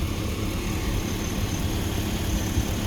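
A 2004 Chevrolet Silverado 4x4 engine with a clutch-powered fan runs quietly at a steady, low rumble, close and continuous, with no voices over it.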